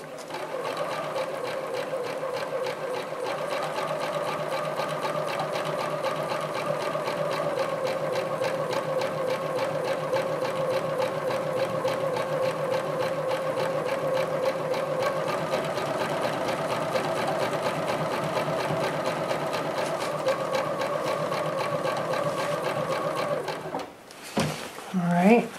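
A sewing machine stitches diamond and teardrop quilting patterns slowly and steadily, its rapid even needle chatter running continuously for over twenty seconds before stopping near the end, with a person talking over it.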